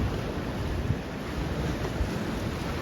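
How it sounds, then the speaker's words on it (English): Ocean waves rush onto a sunny Caribbean beach in Cayman, a continuous loud wash of surf mixed with gusty wind buffeting the microphone, with no voices. "You see how those waves are just rushing in?"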